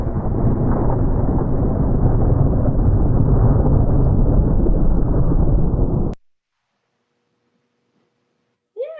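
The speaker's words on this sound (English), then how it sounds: "Yeah, definitely some sort of rolling thunder." Heavy rolling thunder rumbles loud and continuous for about six seconds, then cuts off abruptly to silence, followed by a brief faint sound near the end.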